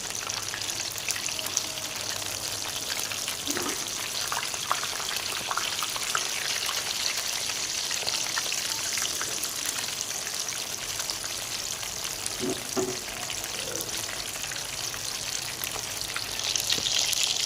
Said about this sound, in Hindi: इसी तरह से हमने दोनों साइडों से इसे तकरीबन 7 से 8 मिनट तक फ्राई करना है।